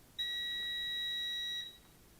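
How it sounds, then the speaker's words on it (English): A loud electronic beep in a school principal's office: a single steady, pure tone held for about one and a half seconds, then cut off, over a quiet room. "You will hear a beeping, a loud beeping in the background."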